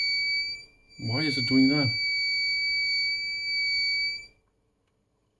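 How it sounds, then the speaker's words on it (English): Beeper on a Martin Hot-Beam-04 500W IR heatplate under repair sounds as a steady high-pitched electronic tone lasting about four seconds and then stopping, with a person speaking briefly over it. "Okay, so the beeper goes on here."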